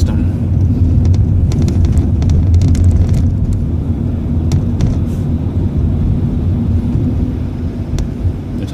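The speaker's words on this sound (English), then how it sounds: "my car doesn't sound all that great at the moment, because it's still running the stock exhaust system." Car engine running a stock exhaust, roughly a 2-inch pipe, heard from inside the cabin as a steady low drone with road and wind rumble throughout, loud and continuous with no talking.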